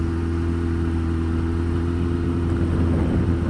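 Yamaha FZ6 600 motorcycle engine running steadily close by, a continuous loud mid-pitched drone with a faint rising rev toward the end; no voices.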